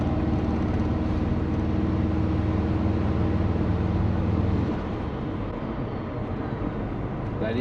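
A Subaru engine runs steadily with a deep, throaty intake drone, the tone dropping and settling as the revs ease off partway through.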